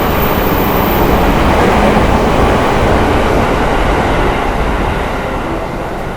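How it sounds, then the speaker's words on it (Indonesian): KRL commuter trains rushing past a train on the Jakarta line, a loud, continuous rumbling roar that fades slightly toward the end, with no voices. "Banyak KRL melintas langsung nih"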